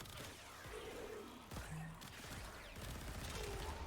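Rapid, sustained Tenet Diplos pistol fire in the video game Warframe, a dense stream of shots with a sharper crack midway, loud and continuous across the clip.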